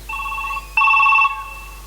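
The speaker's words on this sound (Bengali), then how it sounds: "আবার ফোন এসছে।" A telephone rings with a bright electronic trill, two short bursts in quick succession, loud and close, with no voices.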